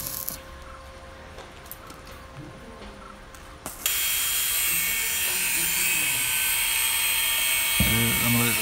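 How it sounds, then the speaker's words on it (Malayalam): Steel rod being cut with a power tool while building a low-cost coconut fall protection net, a loud steady grinding whine starting partway through and running continuously to the end, with a brief lower mechanical rattle near the close. "നമ്മൾ ഇപ്പം കമ്പി കട്ട് ചെയ്തുകൊണ്ടിരിക്കുകയാണ്."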